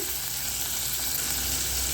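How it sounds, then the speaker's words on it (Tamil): Steady, dense sizzling of onion, ginger and garlic frying in hot oil, continuous and close with no talking. "இது ரெண்டையும் பச்சை வாசனை போகிற அளவுக்கு வதக்கி எடுத்துக்கலாம்"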